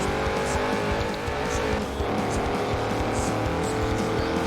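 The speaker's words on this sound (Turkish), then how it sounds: "Bu jip çok sessiz bir jip normalde." A jeep driving in the Forza Horizon 4 racing game produces a continuous engine drone with tire noise, steady and fairly loud throughout, with no talking.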